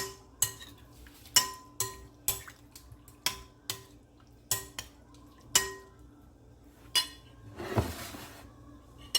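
Repeated metallic clinks of a utensil against a pan as BBQ pigtail is mixed in a honey lemon sauce, evenly spaced taps with a wetter stirring sound near the end and no speech.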